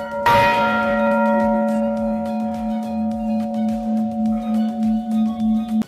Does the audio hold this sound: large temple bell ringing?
yes